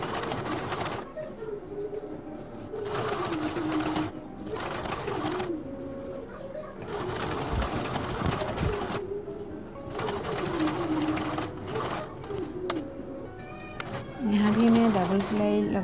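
Double seam being sewn on a princess-cut blouse: a domestic sewing machine whirs in repeated short runs with pauses, joined by pigeons cooing and someone talking softly in between.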